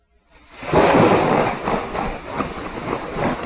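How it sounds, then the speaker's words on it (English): Rain and thunder from the True Storms: Wasteland Edition weather mod in Fallout 4 on Xbox: a deep rolling thunder rumble swells in after silence, then steady rain hisses on underneath. "This is rain. This is just steady, ever, just rain."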